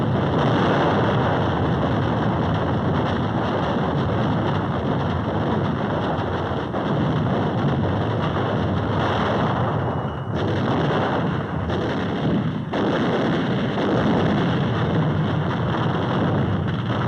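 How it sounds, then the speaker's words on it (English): Naval ship artillery fires point-blank at Mount Suribachi on Iwo Jima, a continuous loud roar of booming blasts with rumbling, wind-like noise and no clear separation between shots. "supporting ships deliver point-blank fire"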